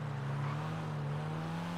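Engine of a Brioso 300 widebody car in GTA 5 Online, a steady droning hum with a low rising pitch as it drives, loud and continuous with no talk.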